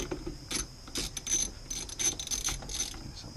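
A ratchet tightens an 8mm bolt on a car air intake with Cervini's Ram Air parts and a Spectre filter, giving quick bursts of metallic clicking, close and fairly quiet.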